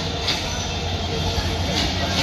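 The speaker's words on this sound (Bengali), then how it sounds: "ওই যে ট্রেন আসতেছে।" A train rolls into Brahmanbaria station at night, a steady, loud mechanical rumble and rattle that holds without pause.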